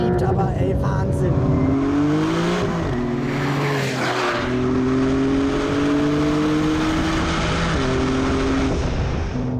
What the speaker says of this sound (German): Du hast einen unheimlich schönen Ton im Auto, so einen heiseren Sechszylinderton.